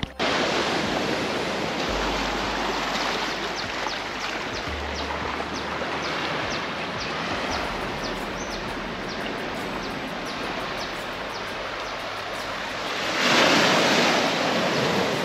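Surf rolls onto Kata Beach in Phuket, Thailand, a continuous loud wash of waves with wind buffeting the microphone and a stronger surge near the end.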